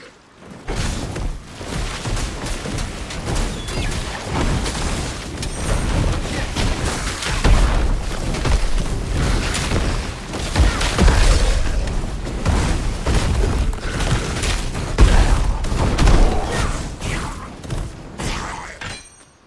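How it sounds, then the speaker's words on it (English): Exploding circle effects in the action game Titan Quest II crackle and boom repeatedly in dense, overlapping bursts, loud and continuous over busy combat sound throughout. "Nice explodey circles."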